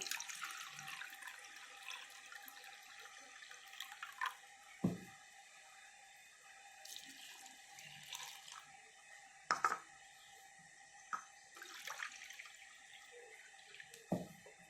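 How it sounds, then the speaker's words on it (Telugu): Two cups of water pour steadily into a bowl of semolina, a soft trickling hiss with a few sharper splashes and knocks, fairly quiet throughout. "నేను టూ కప్స్ వేస్తున్నాను వాటర్"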